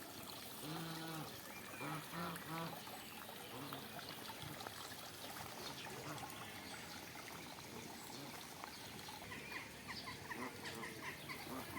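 A hen with chicks clucks repeatedly in soft bursts amid a busy outdoor din of trickling water and chatter of other birds.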